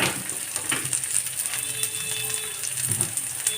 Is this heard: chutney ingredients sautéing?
yes